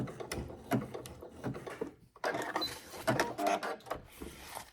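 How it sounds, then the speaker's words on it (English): A sewing machine back stitching grosgrain ribbon on fabric runs in two close, loud bursts of rapid mechanical chatter split by a brief pause, with no talk. "Back stitch, lock those stitches into place"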